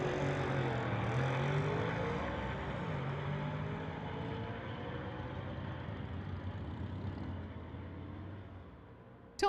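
A 2013 Audi and a 2020 Ford run a street-legal drag race, their engines droning loudly and steadily at first, then receding and fading as the cars pull away down the strip.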